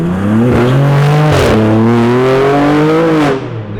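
An Audi at a private car meet revs loudly and close in one long sustained pull that climbs steadily in pitch, then cuts off abruptly at the end.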